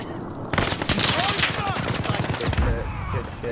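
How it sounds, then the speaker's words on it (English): Automatic gunfire crackles in a video game battle royale fight, sustained bursts with scattered individual shots running throughout, loud and close, with other game sounds mixed in. "I'm taking fire!"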